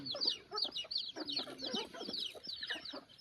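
Several chickens cluck and squawk close by in a rapid, uneven chatter of short calls, lively and continuous with no speech over them.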